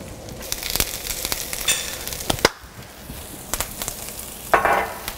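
Halved Brussels sprouts are laid face down in a hot pan, crackling and sizzling while sharp clicks and taps from placing them ring out, with a fresh burst of sizzle near the end.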